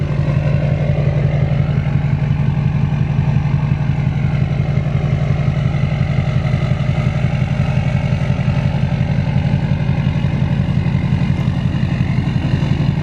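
A 2007 Duramax LBZ diesel truck engine runs steadily at idle, a loud, close, continuous low rumble with a fine clattering pulse throughout and no talking.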